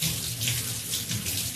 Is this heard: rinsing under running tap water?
yes